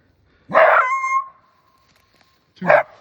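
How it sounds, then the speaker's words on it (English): Coyotes in the Driftless Area give a sharp, close yelp that stretches into a thin, wavering howl, then fall quiet before a second short, barking call. "Two beautiful coyotes"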